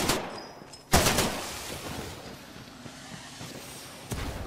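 Rapid-fire gun shooting in the video game Titanfall 2: sharp gunshot bursts punctuate the clip, a loud crack near the first second and another near the end, with busy game noise between.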